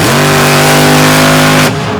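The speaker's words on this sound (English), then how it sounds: "Rear engine truck, high center of gravity, and it will slap wheelie better than just about anything out there." A rear-engine race truck on a sandy track at the 2023 Throwdown on the U.P. revs hard and close in a loud, steady high-pitched roar, then cuts off sharply near the end.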